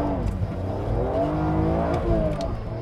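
The BMW Z4 M's S54 straight-six revs hard while driving, a close, continuous engine note climbing and dipping in pitch, with no talking.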